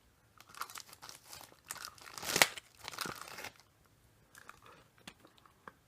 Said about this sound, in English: he's got the plastic bag on his face